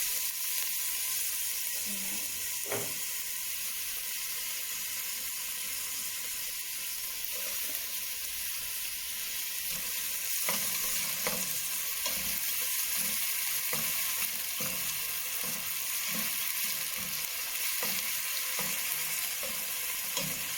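Onion fries in olive oil in a pan for Arabic-style tomato rice: a constant bright, hissing sizzle throughout, with occasional soft knocks and stirring scrapes close by.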